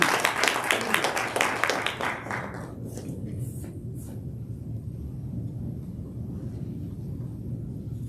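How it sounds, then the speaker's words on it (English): An audience at a UN CSW67 side event held by a Nigerian defence and police officers' wives association applauds an ambassador, a dense burst of clapping that fades out after about two seconds into a low room rumble. "Clap for His Excellency."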